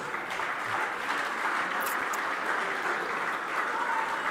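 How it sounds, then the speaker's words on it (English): Audience applause at a Victorian horse racing awards ceremony, a dense, steady wash of clapping from a large crowd that holds at even loudness for several seconds, with no voices over it. "Big round of applause for Brett Preble."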